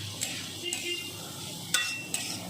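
Boiled chickpeas stirred into sizzling spices in a pan for chhole bhuna, a low steady fry broken by a few sharp spoon scrapes against the pan, close, with no talking.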